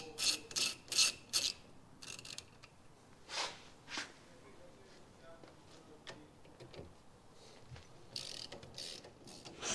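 A ratchet undoes bolts on a motorhome's torsion bar suspension, giving several quick, close clicking bursts followed by scattered metallic scrapes and knocks, with a person speaking at times.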